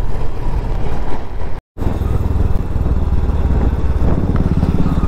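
A motorcycle rides downhill on the Pasarni Ghat road below Panchgani, its engine a loud, steady roar mixed with heavy wind rush, with one brief cut to silence.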